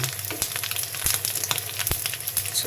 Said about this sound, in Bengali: এখন আমি ডুবো তেলে ভাজি করছি